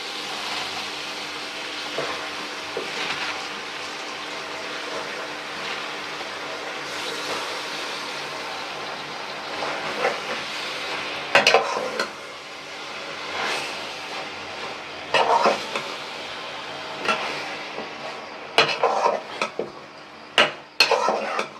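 Malabar spinach and large prawns sizzling in a pan while being stirred, with a steady frying hiss throughout and intermittent scraping clatters of a utensil against the pan, growing more frequent toward the end.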